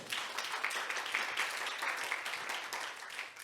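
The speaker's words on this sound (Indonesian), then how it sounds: "Tepuk tangan kita buat Tuhan." Congregation applause during a church service, a dense, steady crackle of many hands clapping throughout, fairly close and continuous without a break.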